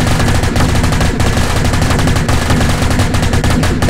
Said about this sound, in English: Cass taking a heavy fire from the Hewitt, Gauss, and other weapons